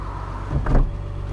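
A steady electric motor whirs under a low engine hum, swelling briefly mid-clip as the sunroof of a 1971 Mercedes 250 /8 glides shut with a soft thud.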